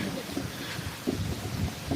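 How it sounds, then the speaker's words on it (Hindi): Steady rain falls throughout during an outdoor religious sermon gathering, a dense continuous hiss with low rumbling underneath and no clear speech. "आज बारिश हो रही है, घबराओ मत।"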